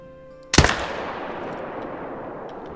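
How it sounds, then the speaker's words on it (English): A single loud rifle shot at a red deer in the hunting game The Hunter: Call of the Wild, with a sharp crack followed by a long echoing tail that fades over a couple of seconds. "I'll probably take a shot at him first, just because he'll spook if I don't."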